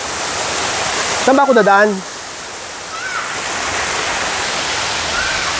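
Flowing river water at a shallow swimming spot in Baler, Aurora, a steady broadband rush running throughout, briefly under a man's spoken question near the start.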